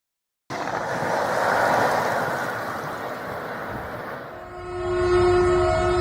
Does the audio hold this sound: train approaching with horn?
yes